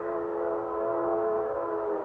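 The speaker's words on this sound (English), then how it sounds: "Oh, that train whistle, it's been driving me bats all morning." A steady, sustained train whistle in an old-time radio drama holds one long, loud, continuous chord-like tone without pauses, heard alone with no voices.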